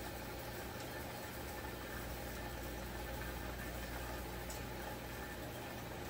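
A Stihl 064 chainsaw with a refitted muffler runs steadily at a low, even idle, a faint continuous mechanical drone with no talk over it.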